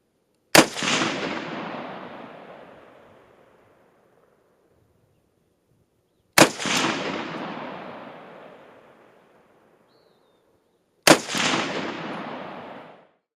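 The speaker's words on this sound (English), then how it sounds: "Five shots at 100 yards, again, came in at about 6¼ inches." An AK-47 rifle fires at a 100-yard range. Three loud, isolated shots sound several seconds apart, each a sharp crack followed by a long, fading rolling echo.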